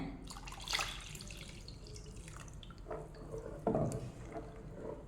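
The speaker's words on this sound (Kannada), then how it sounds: "ಇನ್ನೊಂದು ಸ್ವಲ್ಪ ನೀರು ಹಾಕ್ತಿದ್ದೇನೆ" Water trickles and drips into a thick rice-flour dosa-style batter, with a couple of louder splashy pours standing out against a steady low background.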